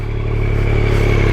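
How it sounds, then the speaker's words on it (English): A Yamaha MT-09 motorcycle with an underslung exhaust setup idling, a loud, steady low throb with a mechanical clatter, close and alone. "I'll just kick the bike over. You guys can have a bit of a listen to what she sounds like."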